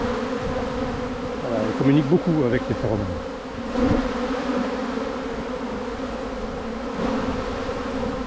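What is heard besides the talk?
honeybee swarm buzzing and fanning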